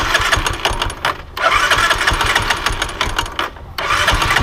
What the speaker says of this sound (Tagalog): Pakita ko sa inyo yung tunog ng motor ko ha.